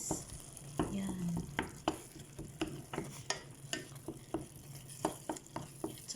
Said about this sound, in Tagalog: I-mix ko muna siya guys kasi para may mix yung tomato paste at saka yung kamatis